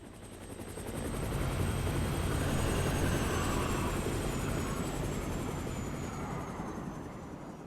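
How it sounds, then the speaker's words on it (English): A helicopter in the Splatoon Raiders video game, a steady rapid rotor chop swelling in and fading slowly, loud and continuous with no voices over it. "A helicopter."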